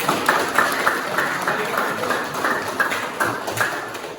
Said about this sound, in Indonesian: Tepuk tangan buat Nanti.